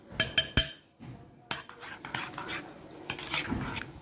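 Tofu sisig being mixed with butter in a pan, metal utensils clinking sharply against the pan a few times, then softer scraping and stirring that continues quietly.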